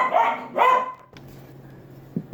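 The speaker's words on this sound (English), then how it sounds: "apologize, my dog's going crazy" A dog barks nearby, two loud, strained barks in quick succession followed by quieter room sounds and a faint short bark near the end.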